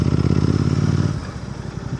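A Royal Enfield GT 650 engine-brakes in Indian traffic, its twin-cylinder exhaust burbling in a rapid, throbbing pulse that drops in pitch and loudness as the revs fall, close and dominant.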